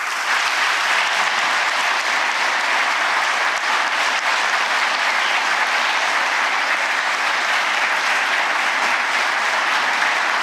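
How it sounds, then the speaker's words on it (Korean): A large audience at a national public report event welcomes the president of South Korea with loud, sustained applause, a dense, even roar of clapping that holds steady throughout. "여러분 뜨거운 박수로 환영해 주십시오."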